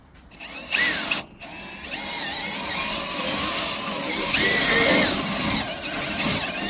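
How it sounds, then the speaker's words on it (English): A power drill bores into the rear quarter panel of a 1990s Ford Bronco, its bit wetted with lubricant. The drill whines steadily and loudly for several seconds, rising and falling slightly as it bites into the metal. "I'm just gonna get my drill here"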